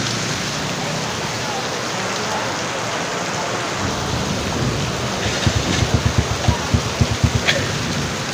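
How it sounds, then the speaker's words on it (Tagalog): Heavy rain pours in a steady, loud hiss during a motorcycle clutch lining repair, with a few pattering thumps toward the end. "Inabot na rin tayo ng malakas na ulan."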